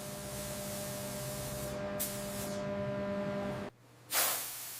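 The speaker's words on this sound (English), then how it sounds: "Complex items are spray glazed to reach every nook and cranny" Spray glazing of complex ceramic crockery in a plate and bowl factory, a continuous close airy hiss of atomized mist that cuts off briefly near the end and then bursts back on.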